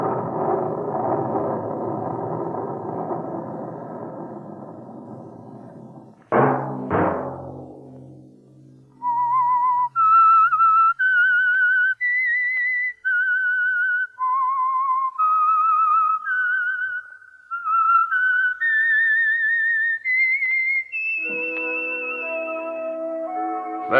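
A clear whistled melody of sustained notes climbing and falling, preceded by a burst of orchestral music and a sharp accent, with music returning at the end, as a radio program's signature whistle.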